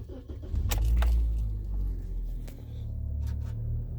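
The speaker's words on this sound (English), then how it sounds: "We'll start up the car." A 2007 Toyota Corolla starts up after front impact sensor replacement: a brief cranking catch and then a steady low engine idle, close by, with a few light jangles and clicks over the running engine.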